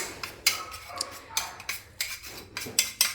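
A spoon clinks and scrapes against a bowl as curd is mixed for a dandruff hair treatment, with quick, light, irregular taps close by and no talking.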